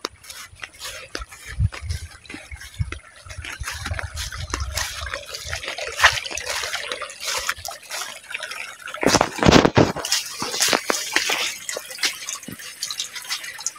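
Fresh spring water trickling and dripping near a bamboo hut in Albay, with irregular close drips and small splashes, then a louder burst of pouring water partway through, no voices.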